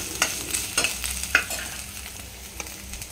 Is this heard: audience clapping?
no